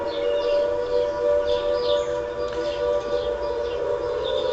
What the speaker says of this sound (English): these sirens are located at fire stations.